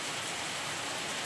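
Heavy rain pours down in a dense, steady hiss with no breaks.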